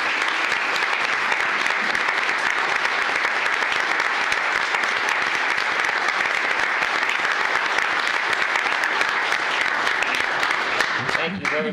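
Sustained applause from an audience honoring veterans in attendance at a gathering, steady dense clapping filling the whole stretch before fading at the end.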